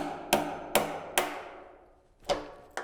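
A chisel is struck to knock the bung out of a bourbon barrel, giving five sharp woody knocks, three in quick succession, a pause, then two more, close and resonant with no talk.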